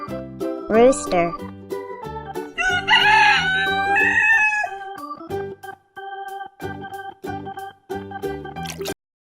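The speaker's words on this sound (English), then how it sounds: "Rooster." A rooster crows loudly near the start, amid a toy-like sequence of short electronic tones and clucking fowl sounds with repeated beeping pulses, while a voice speaks briefly.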